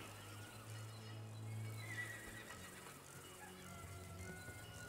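A horse at a horse ranch in the Humankind video game neighs once in a faint whinny, with a soft clip-clop of hooves and a quiet ambient game background.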